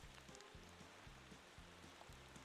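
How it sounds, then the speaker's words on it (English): Rain falls steadily and faintly on an outdoor surface near a container trailer, a soft continuous patter under a repeating low rumble with no talk. "obviously it's raining"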